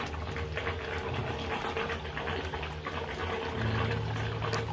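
An Oceantech 12000 l/h pump moves water through an aquarium sump, giving a quiet continuous gushing and trickling with a steady low motor hum that steps up near the end, close-miked, no talk.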